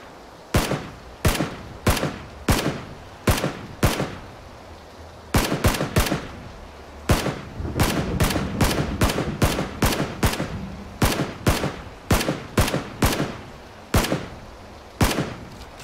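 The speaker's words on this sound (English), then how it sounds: "I'm getting shot at" Gunfire in the PUBG battle royale game cracks out in loud, evenly spaced single shots. The shots come in quick bursts and run steadily, close and dominant, with no talk over them.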